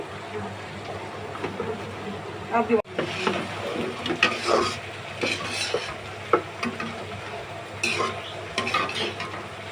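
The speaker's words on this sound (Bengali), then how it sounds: "এখন আমি চিকেনগুলো দিয়ে দিচ্ছি।" Chicken pieces frying in a pan for Chinese-style fried rice, with a steady sizzle under repeated scraping and clinking of a utensil against the pan, plus a sharp knock near the three-second mark.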